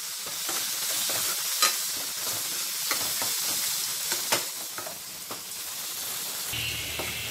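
Tomatoes with turmeric and salt frying in a pan for pepper rasam, a close, steady sizzle punctuated by sharp pops and spatula scrapes, with no voices.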